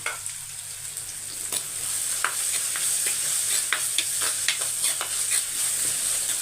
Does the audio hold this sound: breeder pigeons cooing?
no